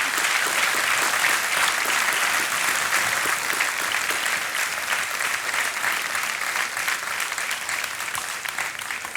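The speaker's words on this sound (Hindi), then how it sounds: "तालियों के साथ हम आपका अभिनंदन करते हैं।" A studio audience on the Kaun Banega Crorepati quiz show applauds, a dense, loud, sustained clapping that fills the whole stretch without a break.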